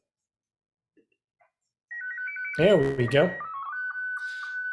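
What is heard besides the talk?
slow scan TV (SSTV) signal transmission from CubeSatSim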